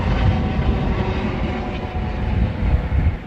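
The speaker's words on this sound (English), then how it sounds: "Also, helicopter. Very close helicopter encounter." Loud, continuous roar of a helicopter passing very close overhead on a Tokyo city street, steady engine and rotor noise filling the whole clip.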